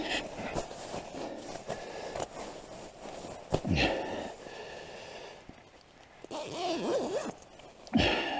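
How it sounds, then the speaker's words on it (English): A sleeping bag's center zipper in a tent during extreme cold is pulled in several quick rasping strokes, close and distinct, with breathy sniffs and rustling of fabric between pulls. "Center zip."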